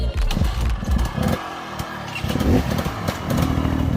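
A two-stroke enduro motorcycle engine revs nearby in rough, loud bursts that rise and fall over a few seconds on an enduro track.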